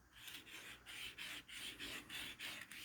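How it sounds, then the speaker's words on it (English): A knife is drawn across a 400 grit stone on a Ruixin Pro sharpener, making quiet, rhythmic rasping strokes repeated evenly back and forth at close range. "So now I'm going up to a 400 grit stone."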